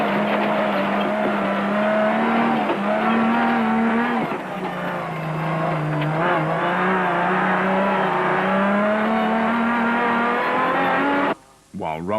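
Off-road racing cars in a video game ploughing through rain and mud, a loud sustained engine whine with shifting pitch and tire squeal, ending in a sudden cut to a short separate burst.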